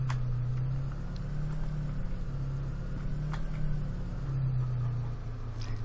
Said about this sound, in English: Park up the truck.